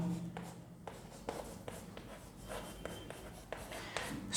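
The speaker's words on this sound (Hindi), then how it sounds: "एक लाइन और लिख देते हैं" A pen writes a line by hand on a surface, making faint, close scratching strokes with small taps between them, steady and quiet.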